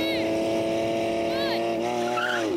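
Ferrari SF90 sports car, a 1,000-horsepower hybrid, driving with sharp tire squeals over a steady engine drone; short chirping screeches come and go in bursts.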